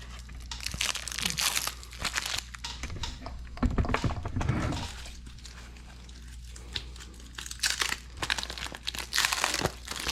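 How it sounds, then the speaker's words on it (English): Plastic protective film being peeled off a vehicle deflector, heard as close, continuous crinkling and crackling with scattered louder crunches and tearing bursts throughout. "Let's go and get the plastic off of it."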